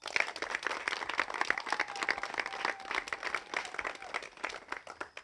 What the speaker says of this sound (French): Applaudissez pour maman.